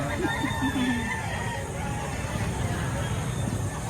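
Roosters crow faintly in the distance at a busy chicken market in Lipa, Batangas, their calls buried under a dense wash of crowd noise and people talking nearby.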